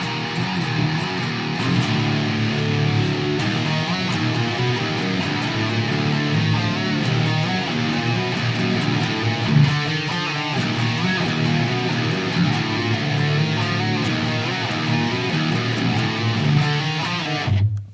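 Two dense, distorted electric guitars churn out a dissonant black metal riff, layered and loud, running continuously before cutting off abruptly at the end.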